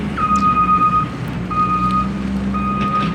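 A construction truck reverses at a new dormitory building site, its beeper sounding three steady, evenly spaced tones over a constant low engine rumble and general site noise, fairly close and loud.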